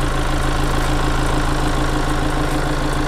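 A first-generation Mini Cooper SD Clubman diesel engine idles close by with a steady, even rumble and a faint rhythmic ticking, constant throughout with no voices.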